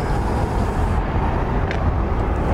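A steady, close idle from a fuel-injected 2012 Harley-Davidson Sportster XR1200X with factory exhaust rumbles on without pause, a dense low drone that holds at an even level throughout.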